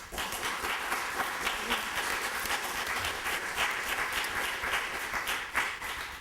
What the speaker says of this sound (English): Let's give our candidates a round of applause for their efforts.